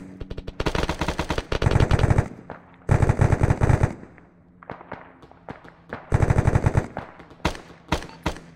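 Bursts of automatic gunfire and single shots crack in the military video game Arma 3 during a firefight, loud and close, coming in three heavy rapid volleys separated by scattered lighter shots.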